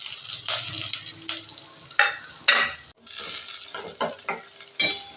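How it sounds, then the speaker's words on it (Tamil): Chopped large onion and slit green chillies sautéing in a pan, a loud continuous sizzle broken by repeated scraping stirs and brief clatters of the spoon, close by with no talk. "வெங்காயம் வதங்கிடுச்சுங்க."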